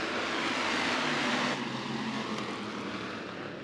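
A pack of IMCA Hobby Stock race cars roars away at the green flag on the Clay County Fair Speedway dirt oval, a dense, loud engine din that eases slightly after the first moments and holds steady.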